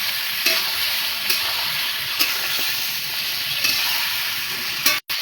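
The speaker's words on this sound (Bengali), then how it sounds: "আর 2 মিনিট মতন কষালেই বন্ধুরা হয়ে যাবে মাংসটা" Chicken meat being sautéed and stirred in a pan for Bengali kosha, a steady close sizzle and hiss with soft periodic stirring scrapes roughly every second, loud and continuous, with no voices.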